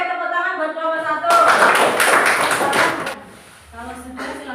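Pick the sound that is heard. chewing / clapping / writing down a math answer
clapping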